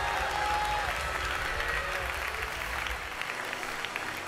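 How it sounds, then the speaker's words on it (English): Church congregation claps hands together in a sustained burst of applause, dense and fairly loud, fading somewhat toward the end with a few scattered claps. "Somebody clap your hands and receive that right now."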